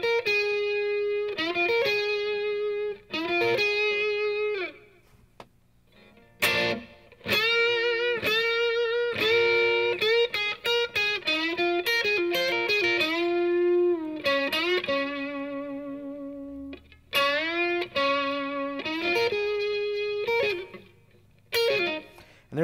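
Distorted electric guitar plays a slow blues lick with bends and ghost notes, soaked in tape-echo delay; loud sustained phrases with brief gaps between them, no voices.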